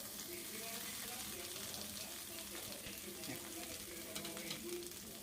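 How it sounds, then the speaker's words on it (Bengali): Prawns wrapped in bottle gourd leaves shallow-fry in a little oil, giving a faint, steady hiss and crackle, with a soft voice murmuring underneath. "আমি অল্প তেলের মধ্যে শ্যালো ফ্রাই করে নেব"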